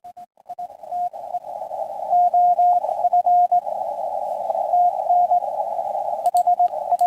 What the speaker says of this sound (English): There's a little bit of CW going on.